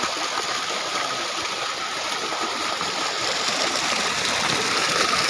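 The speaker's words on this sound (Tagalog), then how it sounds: "nakakalakas yung tubig" Water rushing strongly through a farm pipe, a steady close gushing roar that continues without a break.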